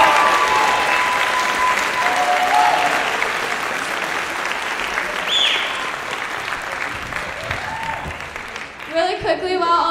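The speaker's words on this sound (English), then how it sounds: "one more round of applause" A large audience gives sustained, dense applause for the graduating senior members of the Sandberg Band, class of 2024, at a spring band concert. The clapping stays full and steady, then thins near the end as a voice rises.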